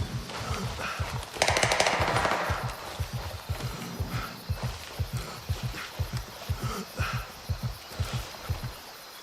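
Bursts of automatic rifle fire in the tactical shooter Gray Zone Warfare, a rapid full-auto rattle that comes in repeated short strings, fairly close and steady, with one louder blast near the start.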